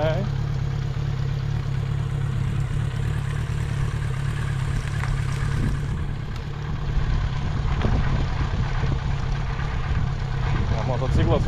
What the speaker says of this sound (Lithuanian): Motociklas važiuoja su karburatoriu